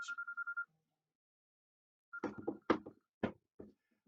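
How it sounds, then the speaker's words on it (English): A mobile phone goes off during an online class with a short burst of rapid, pulsing ring tones that soon cut off, then silence and several muffled thumps. "that was my phone going off"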